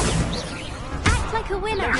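Spells cast in the Hogwarts Legacy video game, a run of whooshes and a sharp crackling blast near the middle, mixed with voices speaking over the effects.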